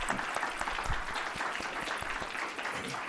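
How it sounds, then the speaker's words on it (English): A lecture audience at a university research lecture gives a dense, continuous round of applause for an award recipient, many hands clapping together at moderate loudness. "So a big round of applause for Derek for his work."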